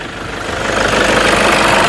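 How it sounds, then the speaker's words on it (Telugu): A 2008 Toyota Innova 2.5 V engine runs at idle, a close, steady, rough mechanical hum that swells slightly in loudness and then holds even, with no voices. "ఇంజన్ కూడా నాయిస్ పర్ఫెక్ట్గా ఉంది"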